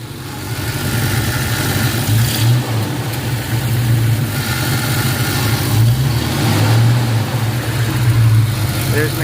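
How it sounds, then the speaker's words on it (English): A 1971 Chevelle V8 idles steadily close by with a small exhaust leak, a low rumbling drone holding even throughout with slight surges, while a person talks over it. "There's an exhaust leak over here on this side."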